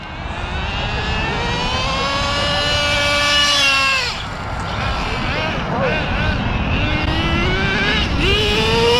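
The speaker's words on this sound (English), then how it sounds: "Engine still warming up." A Thunder Tiger Tomahawk nitro RC car engine screams loudly, its high-pitched whine swooping up and down as the throttle is blipped, with a brief dip before revving again.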